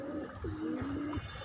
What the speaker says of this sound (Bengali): এদিকে কবুতর আছে,